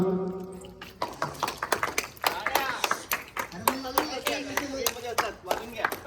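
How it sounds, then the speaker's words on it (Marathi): A crowd at a New Year celebration claps in quick, uneven bursts, close and lively, after a voice speaks briefly over them at the start. "सगळ्यांनी एकदा जोरदार टाळ्या वाजवा."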